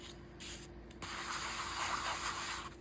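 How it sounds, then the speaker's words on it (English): Sandpaper buffing a slick collage tag to give it tooth, a close, steady rasping rub with a short stroke followed by a longer continuous one. "I'm gonna buff it with some sandpaper to get a little bit of tooth."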